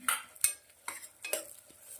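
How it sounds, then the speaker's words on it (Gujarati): Onions sauté in a pan, heard as a spoon stirring and scraping in a few quiet, irregular strokes over a faint sizzle, with no voices. "ડુંગળી સરસ મજાની સંતળાવા દેશું ડુંગળી સંતળાય છે"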